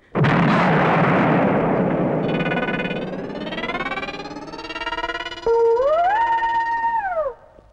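A loud bomb explosion sound effect in a stage play bursts in with a heavy, rumbling blast that decays slowly, followed by a rising electronic tone and a synthetic warbling sweep that cuts off sharply.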